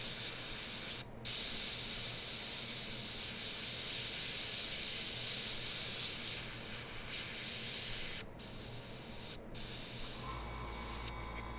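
A Gaahleri GHAD-39 airbrush sprays paint with a steady, close hiss, pausing briefly a few times before resuming.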